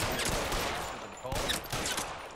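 Gunfire from the video game L.A. Noire, several broadband bursts spaced across a couple of seconds, loud and close, mixed with other game sounds.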